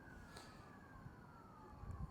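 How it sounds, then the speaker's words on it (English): An ambulance rushes past with its siren wailing and horn blaring as it pushes through traffic, a rising then falling tone heard at moderate distance over low road rumble, no one speaking. "He's laying on the horn. Get out of our way. We got to go. We got to get through here. That's an ambulance."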